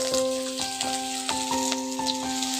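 Black cumin seeds, halved green chilies and grated ginger fry in hot oil, giving a steady close sizzle broken by soft irregular pops and crackles, with no voice over it.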